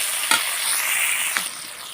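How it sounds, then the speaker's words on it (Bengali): Onions and tomatoes frying in a pan, a close continuous sizzle with two brief stirring scrapes, no voices. "এবার আমি টমেটোগুলো তুলে দেব, দিয়ে আবার ভালো করে নেড়ে নেব।"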